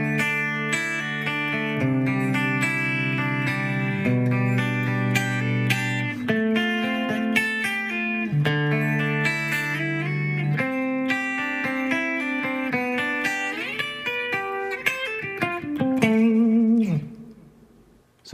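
Electric guitar in a metal style plays through chord tones with added scale-tone embellishments, runs and double stops, heavily effected and sustained, loud and continuous before stopping abruptly near the end.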